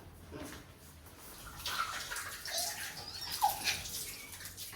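Water splashes and sloshes as a child is washed in a home bathtub in Bangalore, with soft irregular splashing building from quiet to moderate and a few sharper splashes near the end, close by.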